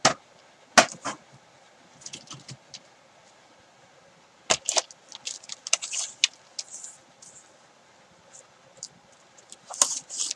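Hand trimmer slicing through cellophane wrap for dragon party favors, a few sharp crisp cuts and rustling crinkles spread across the clip, close and fairly quiet with pauses between.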